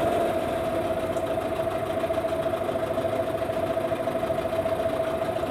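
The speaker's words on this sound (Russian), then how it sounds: "Запускаем мотор на обкаточной смеси." Yamaha outboard motor idling on break-in fuel mix after being repaired for a seized engine, a steady rapid mechanical chatter with a constant pitched whine, running alone without talk.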